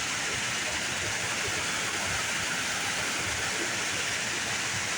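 Small trickling streams of water flowing over rocks and moss, a steady, even rushing wash that holds without a break, moderately loud and close.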